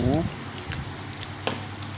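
Crispy pork fries in hot oil with a steady, close sizzle and small pops. A voice talks briefly at the start.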